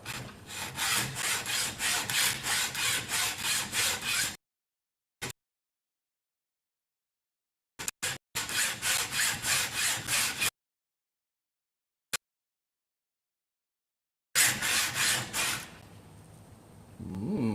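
Rapid back-and-forth hand sawing through 1.6 mm metal wire rings in steady rhythmic bursts, broken by long silent gaps and a few isolated clicks before sawing resumes.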